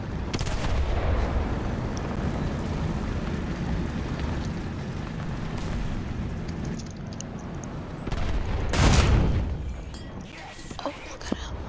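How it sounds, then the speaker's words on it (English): Gunfire and cannon booms from a Churchill Crocodile tank battle video game, a steady roar of combat noise with a louder blast near the end, while a player talks over it. "Okay, something over there is shooting."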